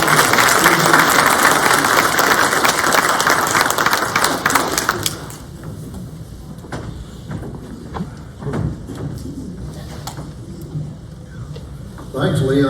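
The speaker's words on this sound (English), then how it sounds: "So that's your panel, so please give them a round of applause." Audience applause for a panel at a wilderness event, a loud dense burst for about five seconds that abruptly drops to quieter room noise with scattered sounds and a voice speaking.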